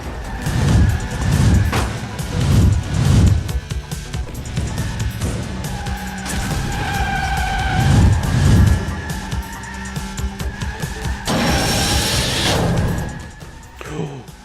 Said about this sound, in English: the GT500 does it decently because you can just sneak the car through it